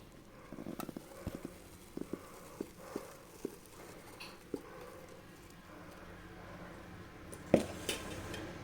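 A 7-inch cake tin of batter tapped to release air bubbles, a run of light, separate knocks, about a dozen, faint and close, with a slightly louder clatter near the end.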